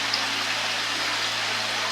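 Water falling drop by drop inside a suranga tunnel in the foothills of the Western Ghats, heard as a dense steady patter and splash close by, with a low hum beneath.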